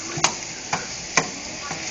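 Pre-seasoned chicken with onions and peppers for fajitas sizzling in a pan, a steady frying hiss broken by a few sharp scrapes and clicks of stirring.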